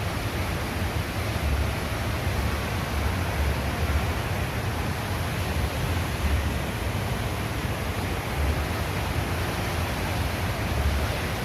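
The tall indoor waterfall at Jewel, Singapore Changi Airport, pours as a constant, broad roar of falling water that holds steady and loud with no talking.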